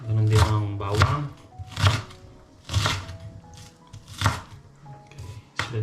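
A knife slices onion and ginger on a cutting board in about six distinct crisp cuts at an uneven pace, close and clear, with no speech over them.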